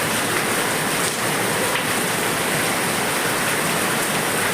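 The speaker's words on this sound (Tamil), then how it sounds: "பாருங்க எவ்வளோ சவுண்டு பாருங்க, எப்படி சவுண்டோடு பெய்யுது பாருங்க மழை" Heavy monsoon rain pours down loudly in a steady, dense roar, a continuous close wash of falling water with no breaks and no voices.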